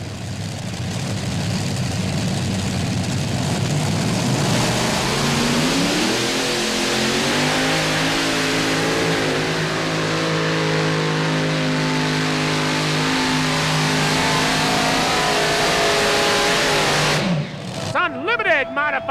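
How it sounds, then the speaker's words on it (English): An unlimited modified pulling tractor's heavy engine roars continuously at full power at a tractor pull in Litchfield, Kentucky, pitch climbing and holding as it strains, loud and close, then cuts out abruptly near the end. "Unlimited Modified Tractor Pulling action out of Litchfield, Kentucky, the Kodiak Special of David Richardson."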